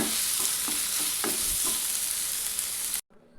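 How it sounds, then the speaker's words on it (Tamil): Chopped tomato sautéing in a pan with raw banana, a close, steady sizzle broken by several quick spatula stirs, and the sound drops out abruptly near the end. No one speaks. "நான் ஒரே ஒரு தக்காளி கட் பண்ணி வச்சுருக்கேன் அதை சேர்த்துறேன் சின்னதாக சேர்த்துக்கோங்க இது கொஞ்சம் வதங்கட்டும்"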